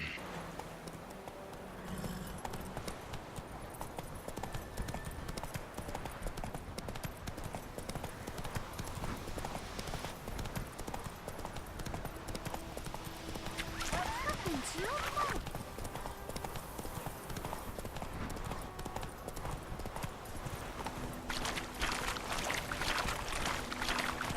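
Hooves of the horse Roach gallop in The Witcher 3, making a quiet, rapid clip-clop over ambient game sound, with voices talking over it and a brief whinny.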